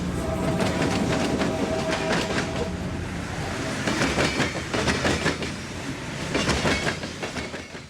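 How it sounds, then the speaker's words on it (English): CSX Tropicana juice train rolling across a railroad diamond crossing in Palmetto, Florida, its wheels hammering out a steady, loud clickety-clack rhythm of repeated clunks over the crossing, with no talking. "the Tropicana juice train crosses the Diamond in Palmetto"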